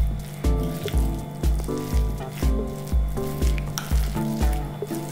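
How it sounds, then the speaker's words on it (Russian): Potato filling mixed with fried button mushrooms and fried onion is stirred in a bowl: regular, close-up squishy strokes, roughly two per second, with soft wet scraping. "Добавим жареные шампиньоны, жареный лук и перемешаем."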